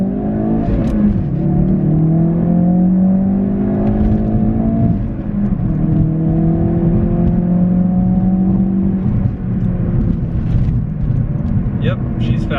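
A stage 2 Ford Focus RS accelerates hard in first gear, its engine note climbing in loud rising sweeps with brief dips at shifts, heard from inside the car.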